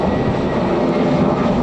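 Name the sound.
airplane taking off near an airport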